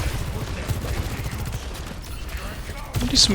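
Rapid gunfire from a Sojourn in an Overwatch match, a dense loud burst of shots rattling throughout with a sharper blast near the end.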